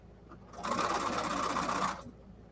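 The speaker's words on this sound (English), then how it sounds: "Okay, I'm ready to sew." A sewing machine stitches patriotic quilted placemats in a short, steady burst of about one and a half seconds, close and moderately loud, starting and stopping cleanly against quiet room tone.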